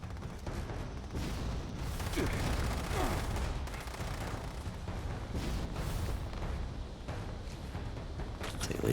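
Dense, continuous gunfire and explosive bursts from a Fallout 76 firefight, loud and sustained throughout with rapid overlapping shots and booms and no pauses.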